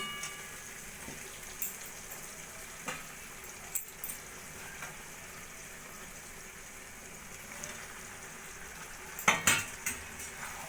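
Fried potatoes and pointed gourd being stirred into a spice masala in a pan; the background stays quiet, with scattered soft spoon clinks and scrapes and a short cluster of sharper clatters near the end.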